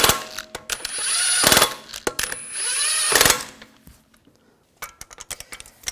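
Front wheel lug bolts on a 2004-2009 Audi A4 Quattro being snugged down with a ratchet: two long bursts of rapid clicking, then scattered short metallic ticks and clacks, close and fairly loud with no talking.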